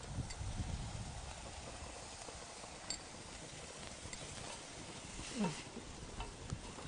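Tomato, green chilli and onion sauté in a dry pan with no oil, giving a faint, soft sizzle. Occasional light clicks and scrapes of stirring break in at low volume.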